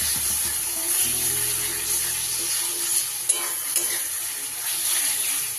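Spice masala with grated tomato frying in a pan for Bengali mutton curry, a steady bright sizzle with occasional stirring clicks and a low hum underneath.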